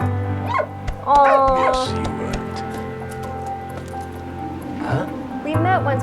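A dog in the World War I video game Valiant Hearts gives short barks and a few whimpering yelps over a steady musical bed, with someone speaking briefly over it.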